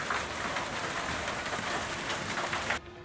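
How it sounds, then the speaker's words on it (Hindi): Hail falling hard and steady amid a squall and thunderstorm, a dense, constant patter with no talking, cutting off abruptly near the end. "अचानक तेज हवाओं के साथ ओले गिरने लगे"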